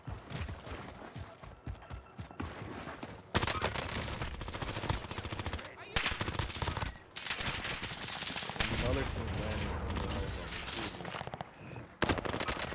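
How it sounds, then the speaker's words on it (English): Rapid bursts of automatic gunfire and single shots crackle through a Call of Duty Rebirth Island match, dense and close with brief pauses between volleys. "I'm getting shot from the back, bro."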